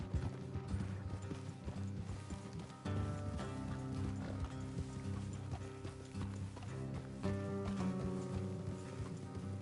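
Steady clip-clop of horse hooves in Red Dead Redemption 2, with creaking, mechanical rattles and occasional musical tones, continuous and moderately quiet throughout.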